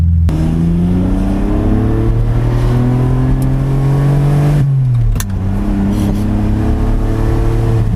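Loud Ferrari 575 engine revving hard up through the gears, pitch rising and dropping at a shift, then climbing again, close by with road noise.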